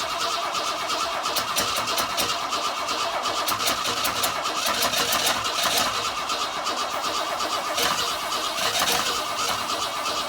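A 1962 Ford Falcon engine is cranked in a starting attempt, with a continuous loud, rough churning of the starter and engine that runs unbroken from start to finish, close by and with no talking.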